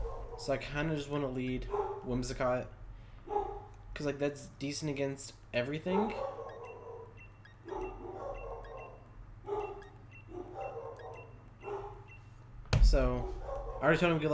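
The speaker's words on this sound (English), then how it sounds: "Sorry if you hear my dogs barking." Dogs barking somewhere in the house, faint yips and barks mixed under steady close talk about a Pokémon battle lead, with one louder bump near the end.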